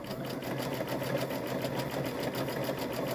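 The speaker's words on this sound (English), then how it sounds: "And I just sewed that together." A sewing machine runs at a steady, even whir with a fast stitching pulse as it joins fabric for a Halloween trick-or-treat bag, close and continuous with no talk.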